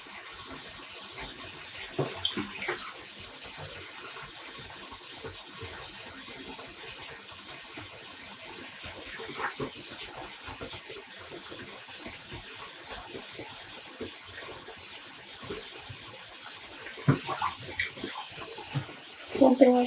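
Cold tap water runs steadily for dyeing yarn at home, a constant splashing gush with occasional clinks and handling noises, ending in a few louder knocks.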